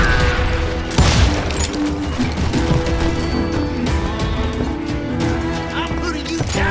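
Enemy gunfire from the Western shooter Call of Juarez: Gunslinger: dense, continuous volleys of shots crackle over a busy game soundtrack, with a heavy burst near the start and steady rapid firing throughout.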